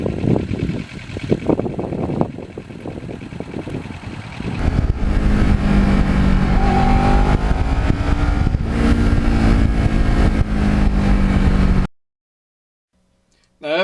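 A 12-year-old Kawasaki Ninja motorcycle engine running while riding, loud and close with a sustained drone and shifting pitch as the throttle changes, wind rushing over it, then a sudden cutoff near the end.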